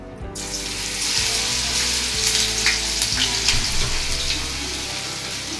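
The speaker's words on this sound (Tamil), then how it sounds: "இதை அப்படியே எண்ணெயில் போட்டு ஃப்ரை பண்ணி எடுத்துக்கலாம்" Paneer 65 pieces frying in hot oil in a pan over a medium flame give a steady, loud, continuous sizzle and crackle, close by, with no talking.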